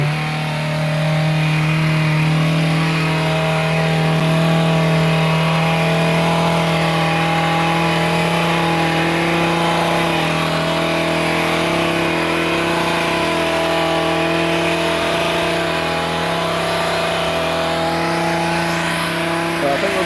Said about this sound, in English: Live hedge cutting.